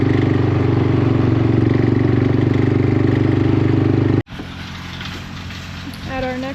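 A four-wheeler ATV engine runs close and loud at a steady idle on a farm, a constant low throbbing rumble that cuts briefly, then continues rougher with faint clatter.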